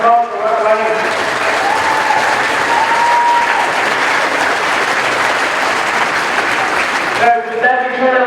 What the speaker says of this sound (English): Round of applause for Rathmolyon.